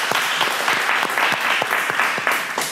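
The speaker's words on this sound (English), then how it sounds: "Can we just clap on that?" A small group on a podcast claps in close, fairly loud, quick irregular strokes, each clap sharp and distinct, with little or no talking underneath.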